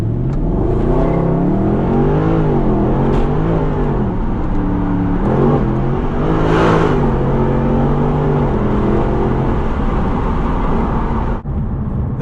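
Mercedes AMG 6.3 V8 revving hard, several loud throttle blips that climb and fall in pitch, heard up close with a deep growl and a sharp cutoff near the end.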